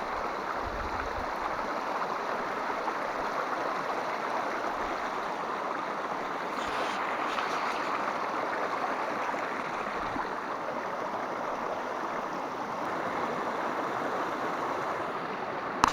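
Flowing creek in grassy countryside, a steady, moderately quiet wash of running water continuing throughout with no talk.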